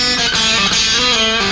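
Electric rock guitar plays a short bluesy phrase that resolves on a G, loud and sustained, with several picked notes changing every few tenths of a second and no talking.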